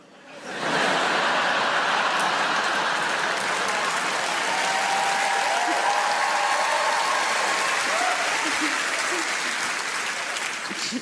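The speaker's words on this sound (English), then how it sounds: "It's weird to applause that, isn't it?" A large theatre audience at a Live at the Apollo comedy show bursts into sustained applause, a loud, continuous roar of clapping that starts abruptly and holds evenly for about ten seconds.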